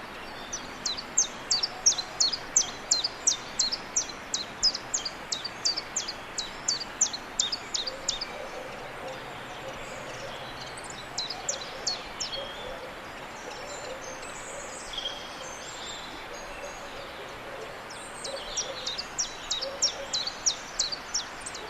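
A chiffchaff sings in Monkstown, alternating its two-note chiff and chaff calls in brisk, high, repetitive bursts with short pauses, fairly near and clear over soft outdoor background.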